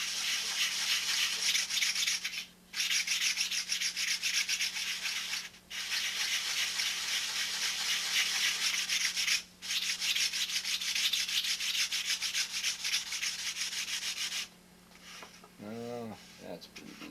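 Sandpaper rubbed across balsa wing ribs of a model airplane, a loud, close, steady rasping in long strokes with short pauses, then a quieter stretch with a brief tonal squeak at the end.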